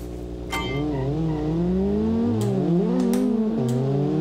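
Honda Civic with a manual gearbox driving in BeamNG Drive, its engine droning steadily close by, pitch sliding up and down through gear changes, with a few brief sharp clicks over it.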